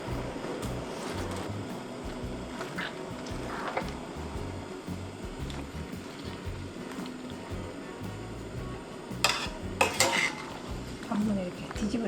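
Spring onion stems go into a pot of boiling salted water, with clinks of utensils against the pot, stirring and bubbling over a steady boil. Several sharper metallic knocks come near the end.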